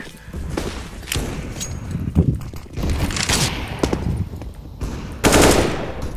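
Rapid bursts of automatic gunfire from a shooter video game, with dense machine-gun volleys and sharp shots rising and falling across the stretch and a loud burst near the end.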